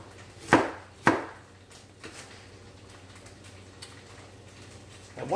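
A knife chops onions on a cutting board in two distinct, fairly close thuds near the start, then a quieter pause with a faint tap and another chop at the end.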